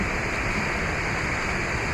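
A waterfall reduced to a thin trickle gives a steady, dense rushing wash of water noise, continuous and fairly close, with no voices over it.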